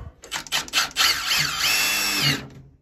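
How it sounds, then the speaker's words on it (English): A power drill bores a hole into a water heater, with a few short trigger bursts followed by a sustained, loud whine that cuts off abruptly. "so I'm gonna drill a hole"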